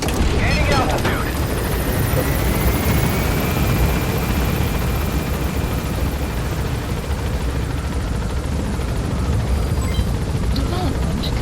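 In Metal Gear Solid V: The Phantom Pain, a helicopter lifts off with a loud, steady rotor thrum and engine whine filling the scene, a faint voice briefly heard near the start.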